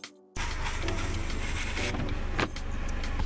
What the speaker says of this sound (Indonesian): Power backdoornya sangat lancar, dibuka dan ditutup.